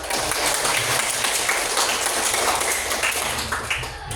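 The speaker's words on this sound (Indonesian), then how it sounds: "tepuk tangan buat kalian" A fifth-grade classroom of children clapping together in a dense, loud burst right up close, continuous for several seconds and fading slightly at the close.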